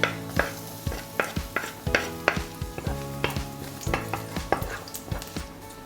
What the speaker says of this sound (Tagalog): magigisa lang tayo ng bawang sibuyas